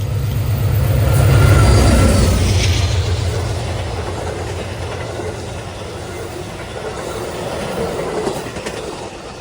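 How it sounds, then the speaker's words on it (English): Amtrak PO89 passenger train led by a P42DC locomotive rolls past close by, a heavy rumbling roar peaking early then settling into steady wheel clatter and rushing noise as the cars go by. "And there goes Amtrak PO89, headed down to Rocky Mount, North Carolina for its next stop."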